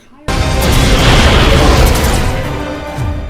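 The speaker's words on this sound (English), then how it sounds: "Cable, any of those nifty grenades of yours? Yeah, might need a few more." Grenade blast in the X-Men '97 animated series: a sudden loud, sustained booming burst with rumbling debris that holds for a few seconds before easing off, mixed with soundtrack noise.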